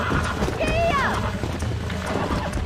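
Horse hooves pound in Red Dead Redemption as a horse runs, loud and close, mixed with game speech and what may be a brief whinny.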